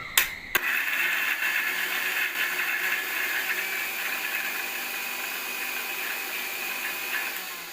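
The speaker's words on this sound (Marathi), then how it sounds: "तर मिक्सर लावत आहेत" A mixer grinder blending dry spices for tomato kadhi, a loud steady high-pitched whir that starts after a brief click and runs continuously for about seven seconds, close by with no talk.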